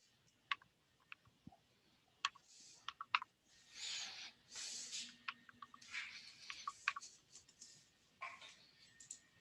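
Typing on a computer keyboard during a physics lesson, with sparse quiet key clicks and taps close by, interspersed with soft breathy rustling.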